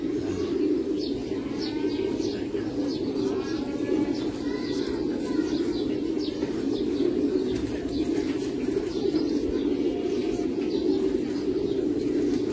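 Pigeons coo continuously in a loft during bathing time, soft repeated low throaty calls layered with faint chirps and a steady background hum.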